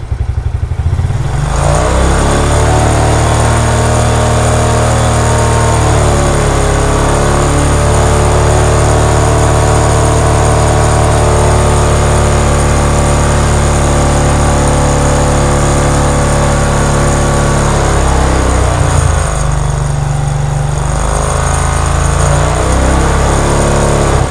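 A Suzuki Shogun 125 motorcycle fitted with a 35-watt halogen headlamp idles steadily and loudly. The engine is revved and held high, then dips and rises again near the end, with no voices.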